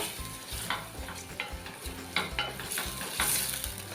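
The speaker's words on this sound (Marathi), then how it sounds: "आता चमचा फिरवून बघूया" A spoon stirs a vegetable curry in a pan, scraping and clinking against the metal in a steady rhythm over a constant sizzle, close and moderately loud with no talking.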